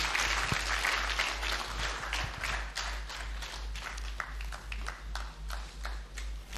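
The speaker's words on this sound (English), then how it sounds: "I believe we can make the applause a bit louder for the Secretary to the Government of the Federation" Audience applause at a Nigeria at 65 world press conference in Abuja, scattered claps settling into a thinner, rhythmic pattering over a low steady hum, fairly distant and fading.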